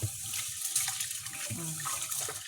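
Water pours steadily from a tap, splashing and gurgling nearby in a short continuous stream.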